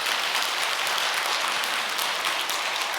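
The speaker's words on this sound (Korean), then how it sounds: "크게 박수 한번 보내주십시오." Steady, dense applause from a church congregation during a Korean sermon, filling the room evenly at full strength throughout with no talking over it.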